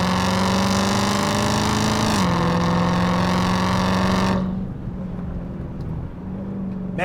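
A 797-horsepower Dodge Hellcat Redeye accelerating hard in fifth gear, its loud engine rising in pitch with a strong supercharged whine before easing off, heard from inside the car.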